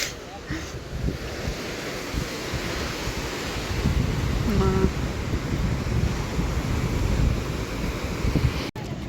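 Sea waves wash onto a beach under steady wind, making a continuous loud rushing roar with close wind buffeting on the microphone.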